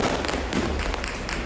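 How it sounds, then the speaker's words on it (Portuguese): Fireworks and gunshots fired into the air at a party in a Rio de Janeiro favela ring out as a quick cluster of sharp, distant-sounding cracks and pops over a short burst of noise. "A festa com fogos de artifícios e tiros para o alto"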